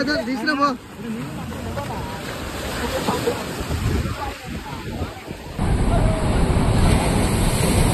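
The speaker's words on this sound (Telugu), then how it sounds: "అసలు ఆ వేవ్స్ మాత్రం చాలా పెద్ద పెద్దగా వస్తున్నాయి." Big ocean waves surge and wash onto the shore at Rushikonda Beach, a broad continuous roar with wind buffeting the microphone, building louder toward the end.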